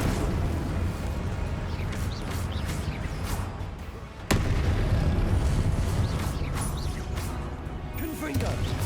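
The Confringo fire spell from Hogwarts Legacy goes off amid busy combat: crackling, mechanical battle noise with a sharp, loud explosive crack in the middle, while a voice speaks over the action.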